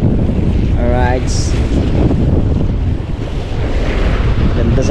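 Strong wind roars continuously across a microphone by the sea, with surf rumbling underneath; the gusting noise is loud and constant throughout, with a brief whistling tone and faint voices nearly buried.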